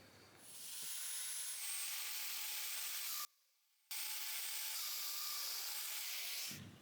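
An oak workpiece being cut by a Festool-style domino joiner: two loud, steady whirring bursts of buzzing, hissy cutting, each about two to three seconds, separated by a brief pause, close and without talk.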